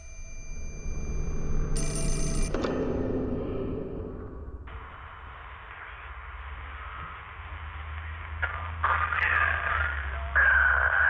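An old telephone bell rings in the Fatal Frame: Mask of the Lunar Eclipse video game, a loud bright burst that cuts off abruptly, followed by a steady low hum and faint electronic tones.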